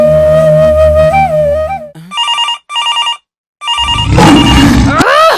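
A telephone rings in two short electronic bursts, bright and close, set between louder sustained tones before and a noisy clatter after.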